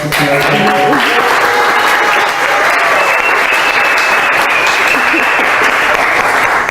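Applause from an audience at an afternoon school session honoring staff member Gracie Walton, steady and dense throughout, with voices faintly mixed in.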